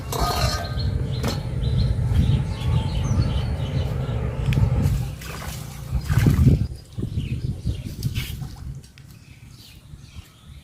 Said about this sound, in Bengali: মাংসটা খুব সুন্দর করে ধুয়ে নিছি